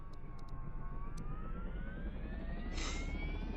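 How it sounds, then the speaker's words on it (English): Helicopter engines start up in the SimplePlanes VR flight game, a continuous whine that slowly rises in pitch over a low rumbling drone, with a few faint clicks near the start and a short brighter burst near the end. "Start the engines up."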